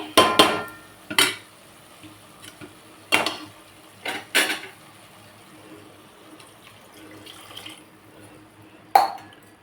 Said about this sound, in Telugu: కొంచెం నీళ్ళు పోద్దాం